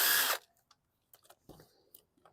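A 2018 Bolens high-wheel lawn mower has its sheet metal screws backed out: a loud, short burst of a power driver whirring, followed by a few quiet scattered clicks and handling taps.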